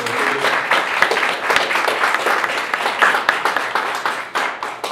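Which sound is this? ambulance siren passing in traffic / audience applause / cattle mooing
audience applause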